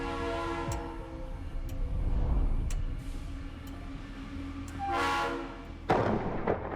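A train rumbles along with rhythmic clacks and thumps, a horn sounding briefly partway through, fairly faint and distant.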